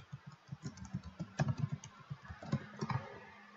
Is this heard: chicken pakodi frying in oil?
no